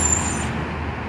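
A city bus pulls into the Campo Limpo bus terminal, a short burst of engine rumble and road noise close by amid general traffic ambience.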